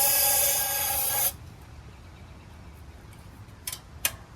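Ether starting fluid sprayed into a rebuilt synchro balancer engine, a steady hissing aerosol blast for about a second that cuts off, followed by quiet and a couple of faint clicks.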